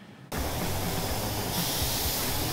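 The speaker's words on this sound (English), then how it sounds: "Stuff is way different than paint, but it's also extremely easy to spray." Cerakote ceramic coating is sprayed onto an exhaust through a spray gun, making a loud, steady hiss that starts abruptly and runs without a break, growing slightly brighter partway through.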